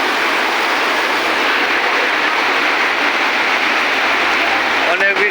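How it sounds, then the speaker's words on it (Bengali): Loud, close rain keeps up a steady rushing wash during a heavy afternoon downpour, and a brief tonal sound breaks in right at the end. "অনেক বৃষ্টি হচ্ছে।"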